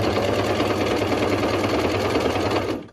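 A Brother coverstitch sewing machine running at a steady speed, loud and close, with a dense rapid mechanical whir and needle rattle that cuts off abruptly at the end.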